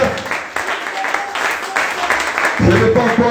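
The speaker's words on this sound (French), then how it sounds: "Est-ce qu'on peut acclamer pour le roi de gloire?" A church congregation at a Sunday service applauds in waves of close, dense clapping, with voices rising into cheers near the end.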